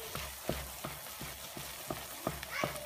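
A thick paste cooks in a pan while a utensil stirs it in a steady rhythm, about six scraping strokes over a constant low sizzle. The sound is close, with no one speaking.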